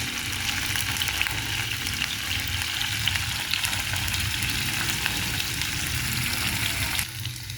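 Tofu frying in a pan of oil for a home-cooked ampalaya lunch, giving a loud, steady, dense sizzle that carries on without pause, with no voices, and dips slightly just before the end.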